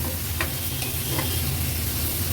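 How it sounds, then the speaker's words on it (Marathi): Prawn and potato masala sizzles in a pan while being stirred, a steady close frying hiss with a few soft scraping strokes. "व्यवस्थित मिक्स करून घेऊया"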